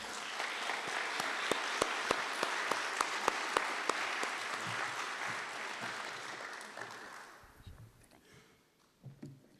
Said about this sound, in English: Mayor, I think that applause was for you.